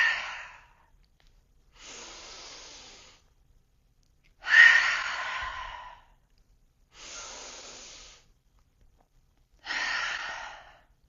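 During yoga pranayama, five slow, audible breaths alternate between soft inhales and fuller open-mouth exhales, each lasting a second or so, spaced by quiet pauses in a calm room.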